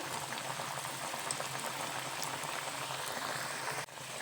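Rice flour snack batter bubbles in a pan over a low flame, a dense continuous boiling crackle that runs steadily at close range, with no voices.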